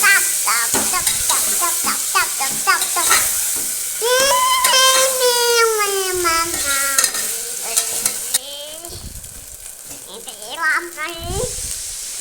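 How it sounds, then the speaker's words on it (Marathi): Finely chopped onions fry for mutton soup with a steady, close sizzling hiss, while voices talk and call out over it for much of the time. "कांदा असं लालसर होईपर्यंत तळू द्यायचं आहे"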